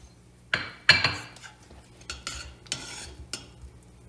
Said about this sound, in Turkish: Kaşarlar eriyene kadar şöyle bir 2 dakika karıştıracağım.